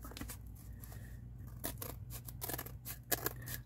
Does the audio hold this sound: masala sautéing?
no